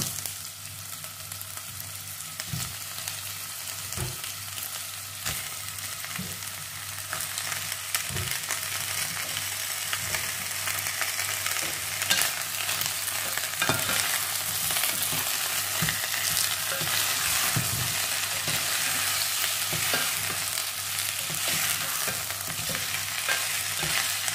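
Salted dried tilapia fries in a pan with onion, a dense continuous sizzle and spatter with periodic soft knocks and stirring scrapes, growing slightly louder over time, no speech.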